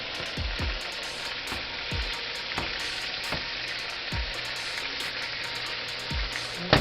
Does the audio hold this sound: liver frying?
yes